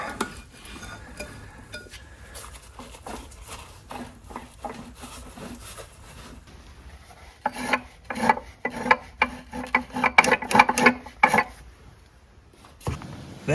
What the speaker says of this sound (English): That terrible grinding sound you hear is actually the transmission brake.